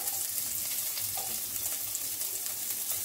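Chopped garlic frying in hot oil for Chicken 65, a steady close sizzle with faint crackles and occasional stirring, no speech.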